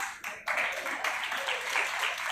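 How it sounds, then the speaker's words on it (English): Audience members at a national moot court competition break into applause, a dense burst of clapping that steps up to full strength and holds steadily at moderate loudness in a hall. "use round of applause for Lloyd College, Noida"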